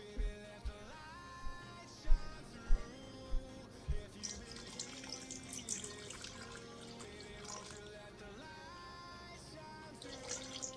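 Tap water runs into a measuring cup for a half cup of water for homemade blueberry pie filling, a steady wash broken by a few sharp knocks and clatters, with steady tonal music in the background.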